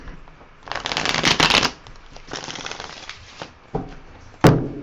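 Tarot cards riffle shuffled by hand, a dense flutter of card edges in two close bursts, followed by a few sharp taps and a final snap of the deck.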